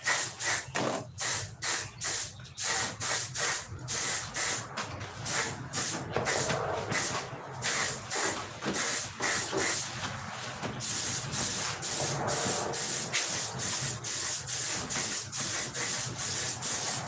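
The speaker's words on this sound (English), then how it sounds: "Just spray it light." Aerosol spray can misting clear coat onto a propeller in short hissing bursts, each a second or so long with brief pauses between, close and fairly loud.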